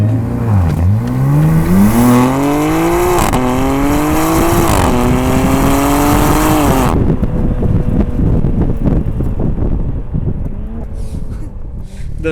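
A BMW M2 G87 with a titanium equal-length exhaust revs hard and loud through several gear shifts, each rising pitch sweep broken by a brief dip. Engine and wind roar stay close, then drop to a rough, crackling lift-off.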